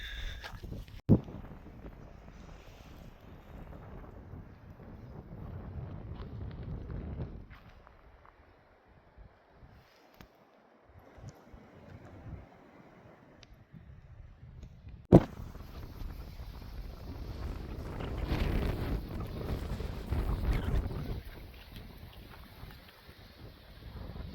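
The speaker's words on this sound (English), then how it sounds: "I don't know if you can hear that, but it is stupid windy today." Gusty wind roars and buffets the microphone on a hike in Arizona's White Tank Mountains, swelling and easing in waves, loudest near the end, with occasional thumps and no talking.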